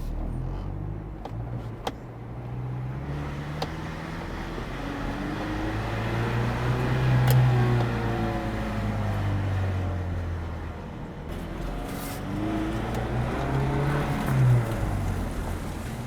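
A modified car engine drones and revs while driving, its pitch climbing and falling in several swells as boost comes on, loud and close with a rumbling exhaust.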